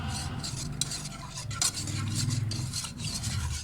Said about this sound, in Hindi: इसे मिक्स करेंगे अच्छी तरह ताकि इसमें गुठलियाँ ना बने